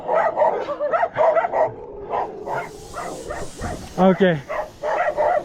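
Dogs on a mountain path in Nepal bark repeatedly in short bursts, some yips and whimpers mixed in, close by, while people talk over them.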